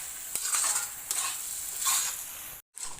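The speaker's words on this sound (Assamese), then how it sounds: "এইখিনি আৰু মই 15-20 মিনিটমান আৰু ভাজিম।" Mutton curry sizzling in a pan after cashew and onion paste goes in, with steady frying crackle, a few stirring scrapes and a brief drop to silence near the end.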